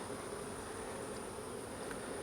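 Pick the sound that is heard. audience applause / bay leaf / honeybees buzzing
honeybees buzzing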